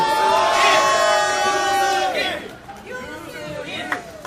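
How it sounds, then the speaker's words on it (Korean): A crowd at an outdoor candlelight political rally in Gwangju cheers and shouts in loud overlapping voices, easing off briefly before a fresh burst of whoops. "박수 한번 주세요."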